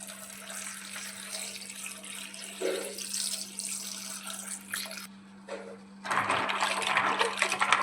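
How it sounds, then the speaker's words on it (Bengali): Tap water runs into a sink as pasta is rinsed, a steady splashing stream that briefly drops out and then returns louder and fuller, with a faint constant hum underneath. "এবারে আমরা এই পাস্তাটা একটু হালকা করে ধুয়ে নেব।"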